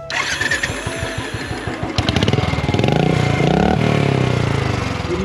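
A motorcycle fitted with a new silencer exhaust starts up, loud and close, firing in a rapid sputter before settling into a throaty, revving idle with rising pulses.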